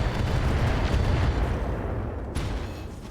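A mech's engine exploding in the RogueTech battle game gives a loud, sustained rumbling blast that fills the low end, then drops off sharply with a slight residual roar near the end.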